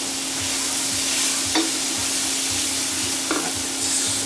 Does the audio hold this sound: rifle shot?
no